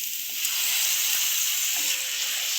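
Tomato paste sizzles and fries in a hot pan with ground Kashmiri chili for egg curry. A steady, close hiss runs throughout, with faint scraping from stirring.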